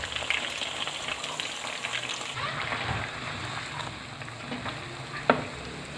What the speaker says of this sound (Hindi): जी चिकन हमारा फ्राई हो चुका है